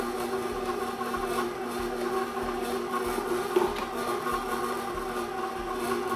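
A mixer works andouille sausage meat with a steady, even mechanical whir and low rumble that runs unbroken throughout, close and moderately loud with no speech.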